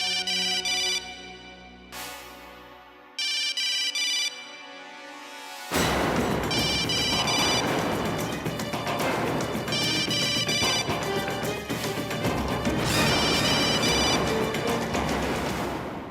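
A telephone rings in repeated electronic bursts, loud and close, then music swells in and continues over the rest of the clip.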